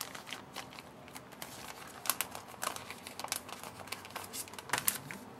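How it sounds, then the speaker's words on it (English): A paper gate fold card flap being folded over by hand, giving soft crinkling and brief papery taps and creases close up, fairly quiet with scattered sharper crackles and no talking. "And then what I did was is I fold the flap over."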